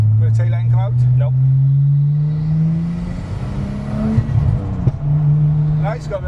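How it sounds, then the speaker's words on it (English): A car on overrun: the engine drone falls away as the exhaust burbles and lets out a few sharp pops, loud and close, with people talking at the start and end. "got a bit of pop and a bit of burble there, overrun"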